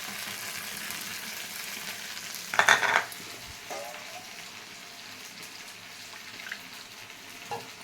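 Ground ginger, chili, coriander and cumin paste hits a pan of softened tomatoes, giving a steady sizzle with a brief louder clatter of stirring partway through, then continued low frying.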